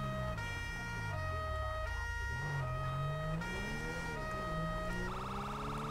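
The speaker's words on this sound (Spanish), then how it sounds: "Vamos a ir poniendo las sirenas para que nos lleguen, para que nos escuchen." Police car sirens in GTA V with the LSPDFR mod, several overlapping wailing and yelping tones cycling continuously with an engine rumble beneath, loud and close throughout.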